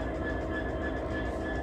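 A log train hauled by a Carlisle rail locomotive passes Hellifield station on the Settle and Carlisle line, producing a loud, steady rolling rumble of wagons that fills the whole moment with no talk.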